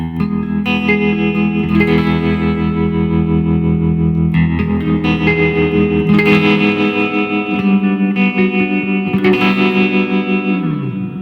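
Electric guitar through a Yamaha THR10C amp on its Deluxe setting, gain cranked with heavy tremolo and reverb, rings out in loud pulsing chords and sustained notes that wash and fade into a spacey tail.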